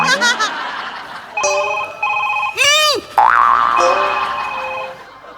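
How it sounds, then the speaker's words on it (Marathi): A phone rings on a comedy stage show: short bursts of steady electronic ringtone tones repeat several times, broken by a loud cartoonish boing effect, with light chuckling underneath. "पुतल्याचा फोन वाजतोय."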